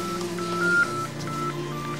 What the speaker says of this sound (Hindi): देखें भाभी का फोन भी आ गया।